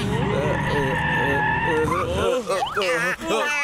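A cartoon car screeches into a skid with long sliding tire squeals and wobbling pitch sweeps, loud and close, mixed with animated character voices shouting over it.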